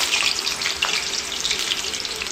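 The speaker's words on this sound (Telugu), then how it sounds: "ఇట్లా నూనె కాగిందండి, వేస్తున్నాను." Ivy gourd pakoda batter sprinkled into hot oil for crispy catering-style pakodi, crackling and hissing steadily and close, a dense continuous bubbling sizzle with no voice over it.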